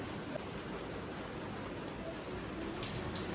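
Steady outdoor rain falls on a carpet left out in the downpour. The patter is dense and continuous, a soft even hiss at low level with no voices.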